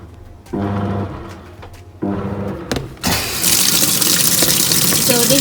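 Water gushes from a tap into a basin for washing dirty clothes, starting and stopping in short runs before settling into a loud, continuous hissing flow.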